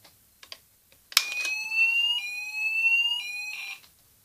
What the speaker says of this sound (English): this is mini fire alarm test